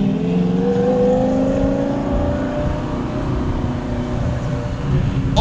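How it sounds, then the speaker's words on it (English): Twin-turbo V10 Lamborghini Gallardo accelerating hard in a pull, a loud continuous engine roar with rising harmonic tones sweeping upward for several seconds, close and unbroken, with no talk over it. "I've never seen a twin Turbinski V10 Gallardo. Let's see if he does a pull."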